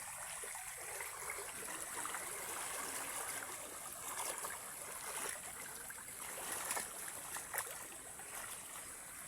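Faint, steady rush of a flooded river overflowing onto the road, a broad continuous wash with small splashes, heard from a little distance.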